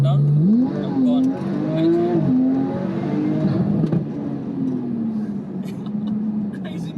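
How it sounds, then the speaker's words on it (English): An ES800 car with an upgraded limited-slip differential and standard gearbox and clutches accelerates hard on a motorway, its engine note climbing and whirring from inside the cabin while people talk over it. "As soon as I put my foot down, I'm gone."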